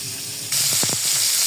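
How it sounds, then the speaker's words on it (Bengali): Pangas fish pieces frying in hot oil: a sudden loud burst of sizzling and hissing as the fish hits the pan, with a few clicks and knocks, then a steady close sizzle. "তেল গরম হয়ে গেছে, আমি ফ্রাই করে মাছগুলো দিয়ে দিয়েছি"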